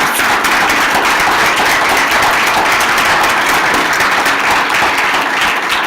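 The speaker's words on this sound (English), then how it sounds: "let's give them a nice round of applause" Loud, sustained applause from a standing crowd at a celebration honouring women veterans, a continuous wash of many hands clapping close by with no break.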